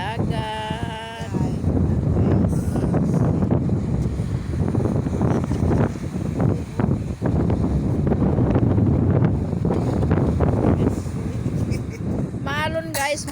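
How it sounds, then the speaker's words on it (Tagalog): Strong seaside wind at a night overlook above rough sea in Kusadasi, Turkey, buffeting the microphone in a continuous low roar, with brief snatches of talk near the start and end. "Maalon guys, maalon kasi mahangin."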